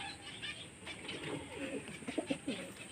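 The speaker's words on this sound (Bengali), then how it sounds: "খুব সুন্দর পায়রা" Soft pigeon cooing in short repeated phrases, moderately close, over a steady background hiss.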